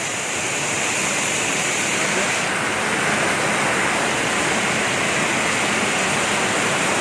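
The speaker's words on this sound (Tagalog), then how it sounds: "Grabe, napakalakas ng ulan guys." Very heavy rain pours down in a dense, constant roar that fills the whole clip without easing.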